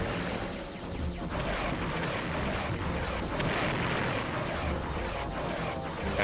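Blaster fire from the video game Star Fox Adventures comes as a dense, continuous barrage of rapid shots over rumbling game noise, loud and unbroken for several seconds.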